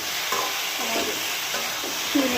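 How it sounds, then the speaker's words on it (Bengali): Tomatoes sauté in a pan with a steady, loud sizzle, broken by a few stirring scrapes from a utensil, close up and with no voices. "আমার টমেটো কষানো হয়ে গেছে, আমি এখন নামিয়ে নেব।"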